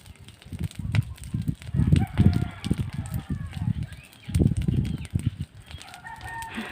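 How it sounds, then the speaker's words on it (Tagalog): Chickens escaped from their net enclosure cluck and squawk nearby in irregular bursts, with a rooster crowing among them and a person talking in the background. "Lumabas sa net yung mga manok."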